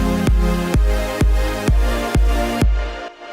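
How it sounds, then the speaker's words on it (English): Bass synth ducked by sidechain compression under a kick drum, heard as a pumping pattern: each punchy kick cuts the sustained tone, which then swells back, repeating about every half second for six hits before stopping. "Usually, it's used to duck the volume of a synth or a bass when a kick hits,"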